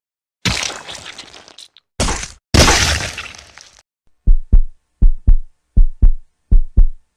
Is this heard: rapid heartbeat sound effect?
yes